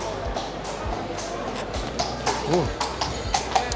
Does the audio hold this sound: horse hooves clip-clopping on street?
yes